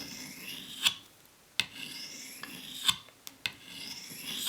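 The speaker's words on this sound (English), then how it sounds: "This grinding sound probably sounds like a baby crying to you guys" A knife blade being sharpened on the rough unglazed bottom of a cup, a series of slow rasping strokes with sharp scraping peaks about once a second, close and fairly quiet.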